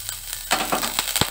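Chopped ginger and whole garam masala spices sizzle in a mix of ghee and refined oil, a short close burst of crackling and spattering with quick popping ticks.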